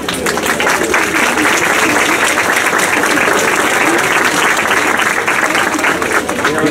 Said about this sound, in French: On peut les voir les applaudir.